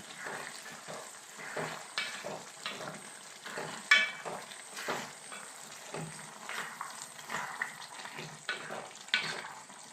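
A lemon pickle mixture with sugar is stirred in a pan, with rhythmic wet scraping and stirring strokes over a soft sizzle, close and moderately loud, with no talk.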